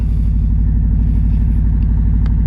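Harley-Davidson Road Glide motorcycle idling, a loud, close, deep throbbing engine rumble with a steady rapid pulse and no changes in pace, with no voices over it.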